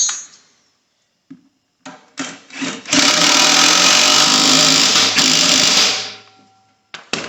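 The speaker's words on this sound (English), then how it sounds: "Those are steel, so you can go with the impacts." An impact wrench fastens steel nuts on the suspension of a 2020 Subaru STI during a spring install. A few short taps and bursts come first, then a loud, continuous rattling whir runs for about three seconds before stopping, up close.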